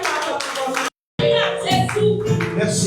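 A church congregation claps and cheers loudly for the Lord, a dense burst of applause that briefly cuts out and then resumes just as strongly.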